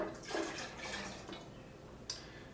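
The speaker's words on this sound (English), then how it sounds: "Then we're going to add a half cup of Worcestershire sauce" Worcestershire sauce poured into a batch of Bloody Mary mix: a brief, close, fairly quiet liquid pour with a gurgling wash and a small splash near the end.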